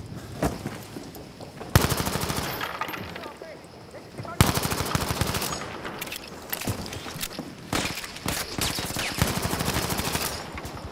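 Repeated bursts of M1907 automatic rifle fire in a hardcore Frontlines mode of a first-person shooter, rapid loud volleys starting and stopping over several seconds with footsteps between them.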